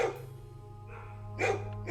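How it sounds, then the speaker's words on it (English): A dog barks in a domestic setting at night, short bursts near the start, middle and end over a steady low background hum, heard from a house with patio doors open. "9:15 in the evening, the dog started barking"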